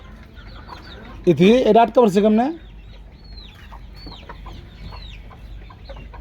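Farm chickens cluck in a short, loud burst of overlapping calls near the start, then softer scattered clucks and chirps continue, with a person's voice speaking briefly.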